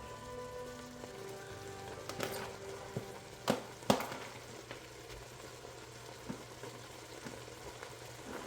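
Vegetables softening in a soup pot give a low, continuous sizzle and simmer, broken by a couple of sharp utensil knocks near the middle, with no one talking.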